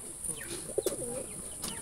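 A black Jalali pigeon gives a short, soft coo up close amid a constant high-pitched hum and faint background noise.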